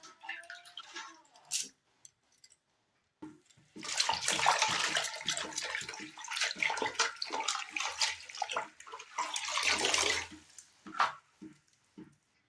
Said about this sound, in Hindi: एमती 2-3 थर साग को भल भाबरे धोई देबा।